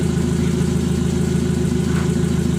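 A petrol car fitted with an HKS-style Srigala aftermarket exhaust idles with a deep, steady rumble and an even, throaty exhaust pulse, close and loud.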